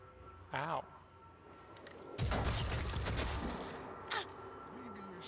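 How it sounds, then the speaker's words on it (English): Gunfire in the squad tactics game Phoenix Point, with a dense burst of shots and impacts that swells midway and trails off. A voice exclaims briefly before it, and another short shout cuts in near the end. "Stop shooting my gun, you dick."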